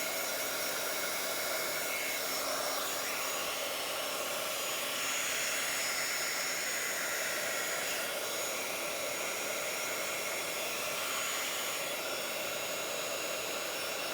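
A hair dryer blows steadily on a glitter-soaked napkin, a loud, continuous airy roar held close for the whole stretch, its pitch wavering slightly as the dryer moves, with no talk.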